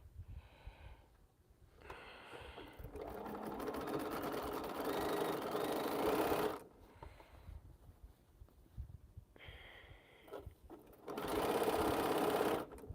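A sewing machine runs in two long stitching bursts while quilt seams are sewn, each burst a steady close whir lasting several seconds, separated by quieter pauses with faint handling.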